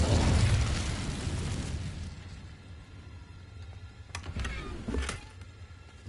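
Incendio fire spell cast in Hogwarts Legacy, a loud whooshing roar of flame that bursts out at once and fades over a couple of seconds, followed by a few faint crackling pops.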